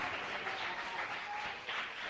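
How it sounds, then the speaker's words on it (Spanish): Church congregation applause during a sermon, a steady, even wash of many hands clapping, fairly quiet and distant with no talk over it. "¿Alguien puede aplaudir el nombre del Señor?"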